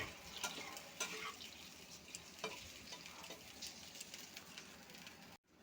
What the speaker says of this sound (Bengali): এখানে একটু জল দিয়ে দিচ্ছি, জল বেশি দেব না, অল্প জল দেব।